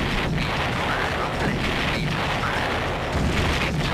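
Explosions in Command & Conquer Red Alert give off several dull, rumbling booms over a constant noisy battle background.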